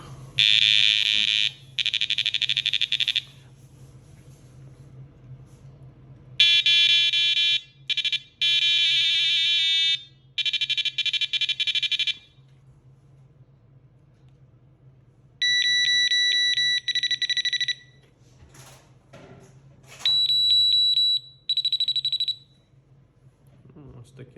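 Loud electronic fishing bite alarm tones from a FLACARP X7 RX 4+1 set, in several separate bursts, some buzzy and harsh, others clear steady beeps at different pitches, with quiet gaps between.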